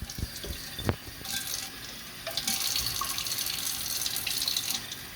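Tap water runs steadily into a pan while palak paneer masala cooks over a medium-low flame, a close, continuous splashing rush after a few brief knocks.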